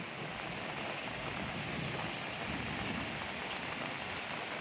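Runoff water streaming steadily after a heavy rainstorm at a rural home, a constant broadband wash of flowing water heard close and unbroken with no voices.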